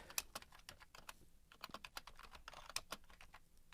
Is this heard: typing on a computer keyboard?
yes